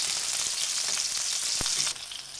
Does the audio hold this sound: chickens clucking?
no